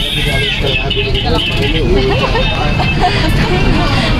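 Inside a moving bus in Real, Quezon, a loud constant engine rumble and road roar fill the cabin while passengers chat close by.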